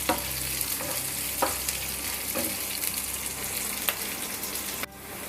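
Sliced onions and green chillies fry for bread upma, giving a steady close sizzle with a few sharp spoon scrapes and stirring clicks across the pan before it suddenly quietens near the end.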